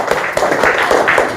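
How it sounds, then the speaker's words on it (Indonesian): Children in an Indonesian classroom applaud together in a short, loud burst of clapping during an Islamic studies lesson, with faint voices mixed in. "kasih tepuk tangan"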